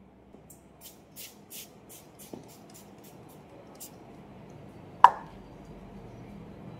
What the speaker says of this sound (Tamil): இப்போ வந்து இதை நான் ஸ்ப்ரே பண்ணிக்கிறேன்.